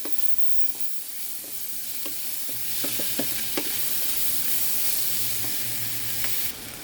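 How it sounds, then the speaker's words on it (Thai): Pork and carrots stir-fried in a pan for pork fried rice, with a steady close sizzle under repeated scraping, tapping spatula strokes, no talking. "ใส่แครอทเข้าไปหน่อยจะได้มีสีสันที่น่ากินจ้า แล้วก็ผัดให้เข้ากันค่ะทุกคน"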